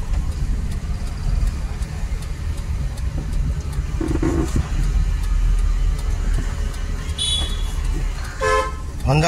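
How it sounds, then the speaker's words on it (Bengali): A car horn gives a couple of short honks near the end, over a steady low engine rumble and busy road noise during a driving lesson. "একদম হর্ন দাও।"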